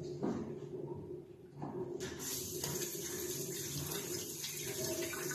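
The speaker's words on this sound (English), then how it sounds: "There's the water coming from here and it fills very slowly" Water runs into a toilet cistern through a fill valve with a damaged diaphragm washer, filling slowly as a steady hiss and trickle that grows a little stronger partway through, close and alone.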